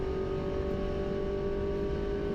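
MINI Cooper S race car in the 2018 MINI Challenge at Snetterton, engine held at high revs between fourth and fifth gear near 100 mph, a loud steady in-car drone with no break and no talk.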